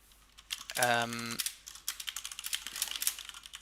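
A brief hum gives way to a computer keyboard being typed on, a run of soft, quick key taps at close range in a quiet room.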